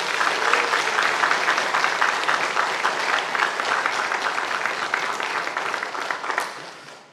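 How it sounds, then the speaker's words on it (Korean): A church congregation applauding a newlywed couple during a Sunday service, a full, even round of clapping from many people that holds steady and tapers off near the end. "다시 한번 더 축하 격려 박수"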